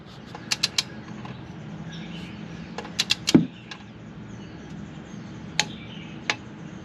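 While an oil drain plug on a 2022+ Toyota GR86 or Subaru BRZ is tightened to 29 foot-pounds, scattered sharp mechanical clicks and creaks sound near and quiet, with a louder click cluster midway against low hum.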